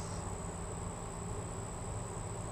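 Honeybees buzz steadily around an open hive during a backyard inspection, a dense continuous hum with a thin high whine layered on top, constant and close throughout.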